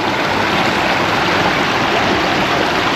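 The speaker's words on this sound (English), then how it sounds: "they're making it obviously stepped waterfalls" Water pours steadily over man-made stepped waterfalls in an urban channel, a dense, even rushing wash heard close and loud throughout, with no voices.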